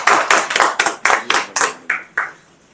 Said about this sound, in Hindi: अपने लिए ताली बजाएं सर